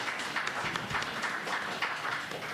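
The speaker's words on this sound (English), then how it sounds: "I appreciate the clapping, I do" An audience applauds at a Democratic primary forum, a dense steady patter of many hands clapping at moderate volume, continuous throughout without voices.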